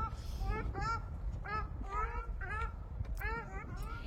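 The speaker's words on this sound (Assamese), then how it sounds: "সেই হাঁহৰ কলৰৱখিনি শুনকচোন" Geese honk repeatedly beside a high-altitude lake in the Tawang hills, a loose chorus of nasal calls in short bursts over low steady wind rumble, fairly close and moderately loud.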